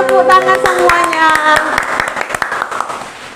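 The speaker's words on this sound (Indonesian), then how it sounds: "Tepuk tangan semuanya." Sunday school children at a church service clap their hands in a quick, irregular burst of sharp claps over a sustained sung or spoken tone that fades toward the end.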